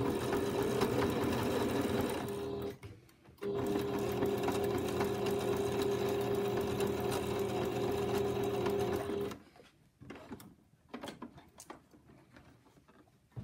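A sewing machine stitches binding onto a fabric potholder, running in a long steady whir with a short pause near the start, then stopping, followed by faint handling clicks and rustles.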